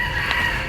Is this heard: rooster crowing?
yes